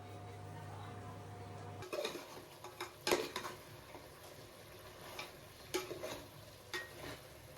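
Crushed kasuri methi being stirred into fried biryani masala in a pan, with scattered soft scrapes and clinks of a spoon against metal after a brief steady hum, quiet and close.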